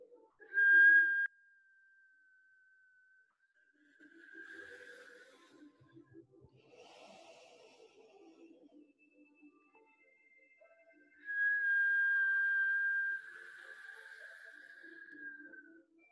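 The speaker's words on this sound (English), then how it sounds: "How long can you whistle?" One person whistles a long, steady single tone during a breathing exercise, then a second sustained whistle follows after a stretch of soft breathing and quiet shifting sounds; the tones are close, thin and solitary.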